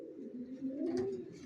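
Young racer pigeons in a loft give a faint, continuous low cooing, one drawn-out murmuring call swelling slightly midway, heard close and alone.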